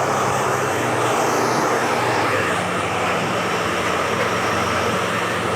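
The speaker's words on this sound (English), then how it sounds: "it's a pretty high heat, and this blow dryer in particular" A blow dryer on high heat dries a mullet haircut, worked back with a paddle brush. It makes a loud, steady, unbroken whoosh with a low hum underneath, running alone without any talk.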